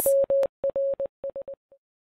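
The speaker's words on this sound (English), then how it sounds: "This letter is dash dot dot dot B. Bravo." Morse code beeps in a clean, steady mid-pitched tone, a long dash followed by short dots, repeated in several quick groups with brief gaps and a faint final blip, with no voices.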